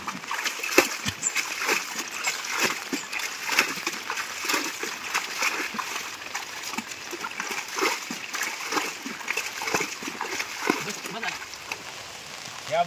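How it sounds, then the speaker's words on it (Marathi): Water sloshes and splashes in quick, repeated scoops as a flooded boat is bailed out on a Konkan river during heavy monsoon rain, with voices talking over it throughout. "ही होडी भरले पाणी आले आता ही उपसणार"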